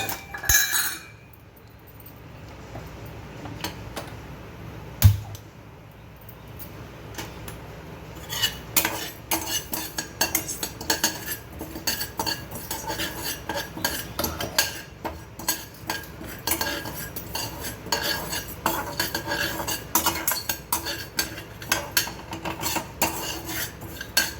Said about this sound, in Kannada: ಇದನ್ನು ಎಣ್ಣೆ ಹಾಕ್ದೇ ಹುರ್ಕೋಬೇಕು